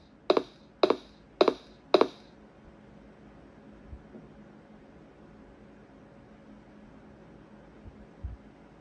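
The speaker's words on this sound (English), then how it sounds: "Hot steam coming from the valves." Four quick, sharp bursts of hissing steam vent from valves in a horror game, evenly spaced at the start, then fade into a quiet low hum with faint thumps.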